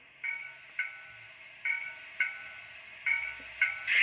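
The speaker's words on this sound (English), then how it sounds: "we're going to go through some sounds starting with F1, the bell." A model steam locomotive's sound-system bell, on a Model Power N scale American 4-4-0, rings in evenly spaced, clear metallic dings, six strikes in steady rhythm, each decaying briefly before the next.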